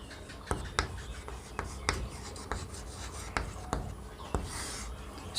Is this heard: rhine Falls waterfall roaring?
no